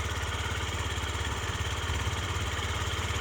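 A Yamaha Gear four-stroke fuel-injected scooter engine idles evenly with a low, steady putter and faint mechanical vibration, running alone without any voices.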